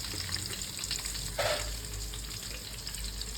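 Cumin seeds go into hot oil in a frying pan and sizzle, a steady close frying hiss with a brief louder burst of crackle partway through, and no talking.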